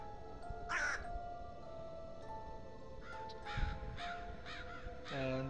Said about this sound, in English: Here's a crow.